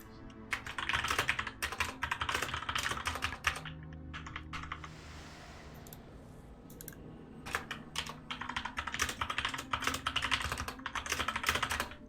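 Rapid typing on a computer keyboard during an Icecrown Citadel 25 Heroic raid, with fast bursts of clacking keys, a short pause midway, then another brisk flurry of keystrokes.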